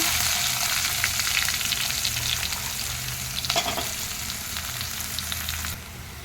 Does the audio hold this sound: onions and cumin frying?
yes